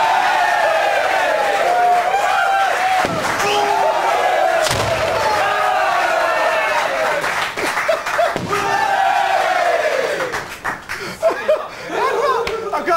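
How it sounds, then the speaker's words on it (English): Four-inch firework shells bursting one after another as a sequence, loud sharp booms repeating every few seconds while a crowd cheers, talks and laughs throughout. "This is the these are the 4-inch shells."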